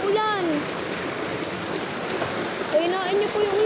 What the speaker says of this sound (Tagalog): Pahinain niyo na po yung ulan!